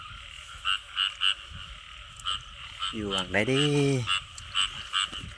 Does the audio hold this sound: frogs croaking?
yes